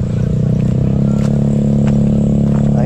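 A tricycle's motorcycle engine idles steadily and loudly throughout, a continuous low rumble with faint clatter on top, no other prominent sounds.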